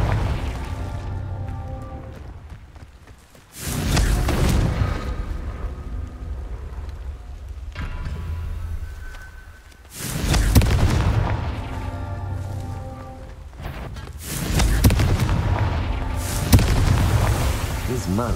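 Confringo blasting spells exploding in the video game Hogwarts Legacy: heavy booming blasts with rumbling tails recur about three times over a constant bed of game noise, while voices speak throughout.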